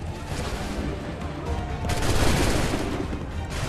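Musket volleys crack out in rapid, overlapping bursts during a battle in Assassin's Creed III. The gunfire is dense and fairly loud, and it swells toward the middle of the clip.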